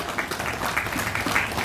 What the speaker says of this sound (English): Please, another round of applause for all our elected officials.